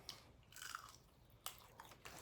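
Close, wet chewing of grilled neckbones with a few sharp crunches, quiet and brief, with short pauses between bites.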